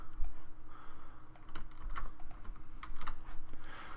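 Rapid, close keystrokes on a computer keyboard while JavaScript code is written out, a continuous clatter of typing over low room hum.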